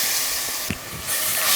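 Mint, coriander, ginger and garlic paste sizzling in a hot pan with onions and masala powder for mushroom biryani, a steady broadband hiss with a brief stir-like thump midway, no talking.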